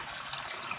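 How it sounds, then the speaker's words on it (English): Tap water runs into a sink with the stopper in, a steady close hiss and splash with no voices. "I'm going to be filling my sink right now"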